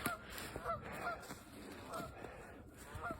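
Geese honk repeatedly in loud, overlapping calls across a snowy North Carolina lake on a cold morning, some near and some farther off.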